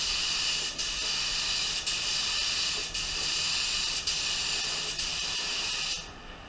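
A spray gun hisses out a silver base coat onto a lowrider car in repeated long bursts, each about a second, with brief dips between passes before the spray stops near the end.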